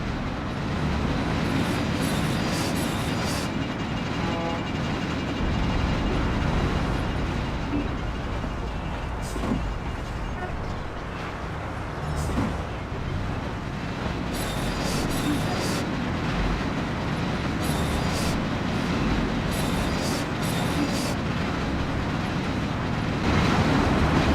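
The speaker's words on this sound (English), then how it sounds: "We'll take the train. It ain't far." Train riding along rails in the video game Mafia (2002): steady, loud rolling rumble of wheels on track with rhythmic clatter and occasional squeals, continuous throughout.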